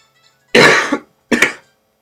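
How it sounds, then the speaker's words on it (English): Two harsh coughs from a sick person sound close and loud, a longer one followed by a shorter one after a brief pause, with silence around them. "sorry about that cough"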